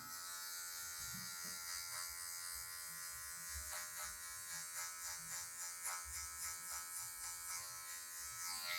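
Steady, continuous electric hair clipper buzz, close and moderately loud, as a barber uses just the tip of the clipper to blend out a line while cutting a mid fade, with light varying scraping texture through hair.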